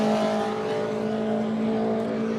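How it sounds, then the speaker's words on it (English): BMW race cars on the front straight of a circuit during a QRDC race meeting, engines droning steadily at a distance with a constant tonal hum and no clear pass-by. "Looking across at the front straight, there's those BMWs, one of the Linton entry cars, number 23 car"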